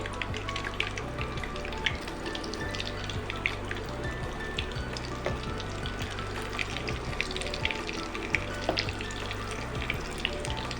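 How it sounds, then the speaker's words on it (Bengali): Topse fish fry in oil until reddish and crisp, bubbling and popping in a busy, continuous sizzle with scattered crackles close by, and nobody speaks. "এরকমভাবে লাল লাল করে কিন্তু ভেজে নিতে হবে।"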